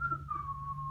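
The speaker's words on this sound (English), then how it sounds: "I could whistle a happy tune until the piano falls on me" A person whistles a happy tune alone, a clear sustained note that slowly slides downward in pitch. It is close and fairly loud, with no talking over it.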